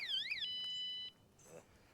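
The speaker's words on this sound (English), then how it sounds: "it's gonna set the alarm off" A G Force T42 bike's anti-theft alarm gives a loud warbling electronic siren that rises and falls, then holds a steady high tone for about a second and cuts off, followed by a brief faint chirp.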